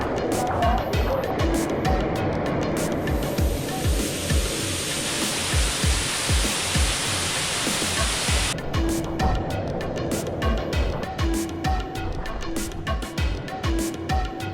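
Baho Waterfalls near Nha Trang, Vietnam, heard from a small cave beneath the falls: a dense, steady roar of falling water close by, with scattered knocks and bumps.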